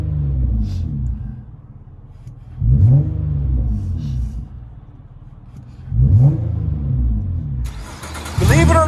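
Interior cabin sound of a 2011 Nissan Altima SR 3.5L V6 with dual exhaust and Magnaflow Magnapack, original-owner car at 335,000 miles with CVT: a steady idle rumble broken by three sharp revs, the last one louder and higher.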